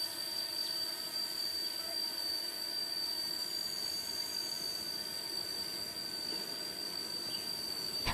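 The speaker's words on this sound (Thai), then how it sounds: "มาแล้วนะคะขบวนรถท้องถิ่นที่ 408 ต้นทางสถานีเชียงใหม่ ปลายทางสถานีนครสวรรค์กำลังจะผ่านสะพานรถไฟกับหัวค่ะ" A diesel railcar local train rumbles past steadily at a moderate distance near Ruang Phueng railway bridge in Thailand, with a continuous broad roar and a faint high whine throughout, no voices.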